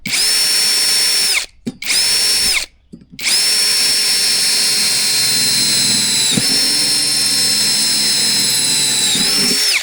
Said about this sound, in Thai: โอ้โหเจาะง่ายมากครับ เจาะเหล็กก็ได้แรงเหลือๆเลย